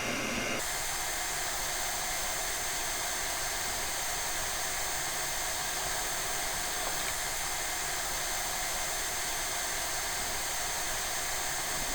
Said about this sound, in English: So I set my heat gun to 100 degrees, and now we have to heat up this top plate to loosen the adhesive under it